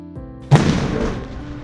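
A single loud explosion booms during a blast test of 31.52 mm PVB laminated glass panels, a sharp onset followed by a rumbling decay over about a second.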